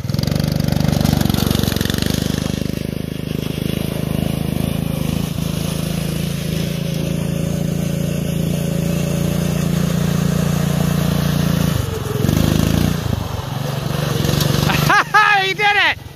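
A gas-powered Ford F150 Power Wheels ride-on truck drives on ice, its small engine droning loudly and steadily, dipping briefly near the end before revving back up with a rising whine.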